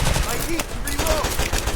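Rapid gunfire from the PUBG battle game crackles through dense, loud bursts and short repeated shots, with faint game voice cues mixed in.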